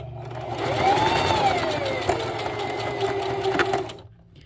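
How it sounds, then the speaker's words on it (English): A sewing machine stitches fabric for a plush dinosaur's foot bottom, running forward and then backstitching in a steady, close whirring hum that lasts about four seconds before stopping. "You're going to stitch forward a little bit and then do three or so back stitches."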